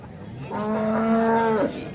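A farmer's cow at the Modnimb cattle market lets out one long, loud moo lasting over a second, close by, with faint market noise behind it.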